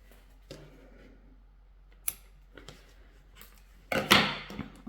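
Scissors snip thread on a faux leather pet-fur keychain, giving a few sharp, close clicks spread across a quiet stretch, with a louder cluster of snipping and rustling near the end.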